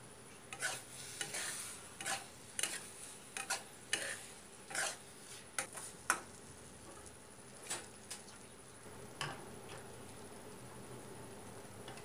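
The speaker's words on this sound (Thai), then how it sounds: "คนไปเรื่อยๆเนาะค่ะจนน้ำแห้งเลยเนาะค่ะ" Pink stir-fried rice noodles with egg are stirred in a pan until the liquid cooks off. A spatula scrapes and taps in an uneven rhythm over a faint sizzle, close by, with no talking.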